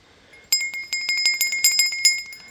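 Small old metal bell with its clapper still inside, shaken in a quick irregular series of about a dozen bright, ringing dings, close and loud with no talk.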